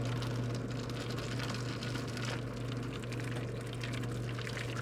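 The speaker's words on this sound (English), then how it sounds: "we're going to pour the hot water in around the side." Hot water poured into a pan around the sides of a peachy vanilla bean cheesecake, a steady close splashing trickle that runs continuously under a low background hum, with no talking.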